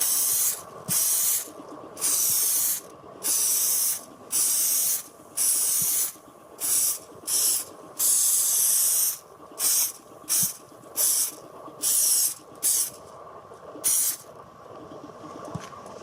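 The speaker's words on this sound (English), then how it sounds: "I'll just spray." Short bursts of hissing aerosol spray while fitting a Triumph TR4 rear seat, repeated in quick irregular pulses about a dozen times, loud and close over a faint background hum.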